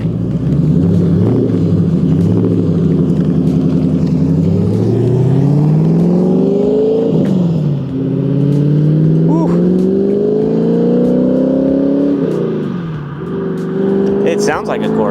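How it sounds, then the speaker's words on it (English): A 2011 Factory 5 GTM sports car engine revs and accelerates up through the gears, a loud, close, deep rumble rising in pitch with each shift and dipping between them. "Sounds like a Corvette."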